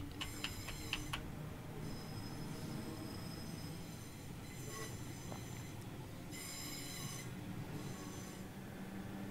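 A train runs on rails on the Hastings Line in Train Simulator, with a steady rumbling roll and repeated high-pitched wheel squeals rising and fading.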